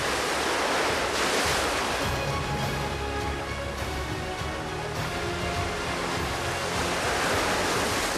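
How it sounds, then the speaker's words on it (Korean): Rough, heavy sea waves surge and crash steadily off the rocky Jeju coast where haenyeo divers work, a continuous loud roar of surf with wind buffeting the microphone and no voices. "그렇게 사나운 파도와 다투기를 10여 분."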